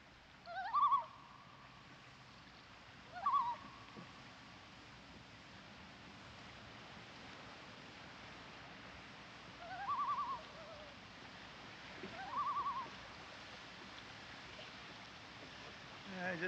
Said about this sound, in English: The loons. They've come around to say goodbye.